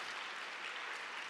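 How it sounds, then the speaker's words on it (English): A conference audience claps for a first-time speaker, a steady, dense wash of applause from many hands, moderately distant and even throughout the short burst. "For the requisite claps"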